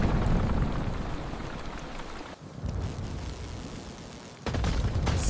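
Heavy rain pours down in a dense, steady roar of drops on surfaces, with brief dips in intensity, fairly quiet and without talk.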